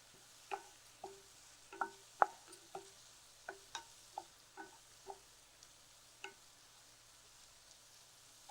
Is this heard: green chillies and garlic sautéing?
yes